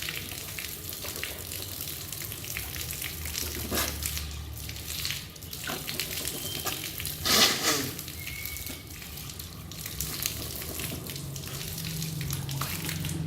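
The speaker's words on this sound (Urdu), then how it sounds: "اب ہم ناک اور منہ میں ایسے پانی چڑھائیں گے۔" Running water splashes and gurgles continuously as it is drawn into the mouth and nose during ablution, with a brief louder surge midway.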